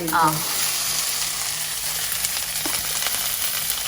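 Vegetables for a veg soup frying in a pan give a steady broadband sizzle throughout, fairly close, with a brief voice-like sound at the very start.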